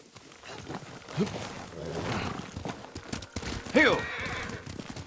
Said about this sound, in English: Kazumasa, I do enjoy our rides together.